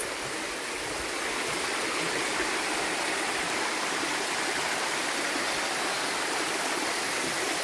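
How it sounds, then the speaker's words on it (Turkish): Fizzy mineral water streams beside a forest trail in a longoz forest near a travertine waterfall, a dense, steady rushing flow heard up close with no voices. "Parkur boyunca böyle sodalı su size yoldaşlık ediyor."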